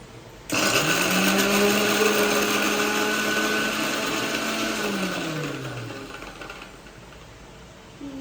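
A kitchen blender grinds a paste of potato, garlic, chillies, onion and tomato, a loud steady motor whine that starts abruptly, holds for several seconds, then drops in pitch as it winds down, with no talking.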